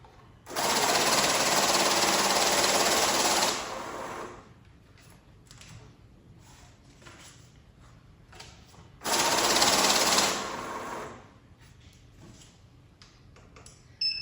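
A NanoCash banknote counter riffles through a stack of dollar and euro bills in two loud, fast whirring bursts of about three and two seconds, with quiet clicks and handling noise between them.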